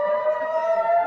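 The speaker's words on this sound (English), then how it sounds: "Air sirens blasted across the city as another barrage of Hamas's rockets rained down." Air raid siren wailing across a city during a rocket barrage, a steady sustained loud tone holding without a break, with no voices.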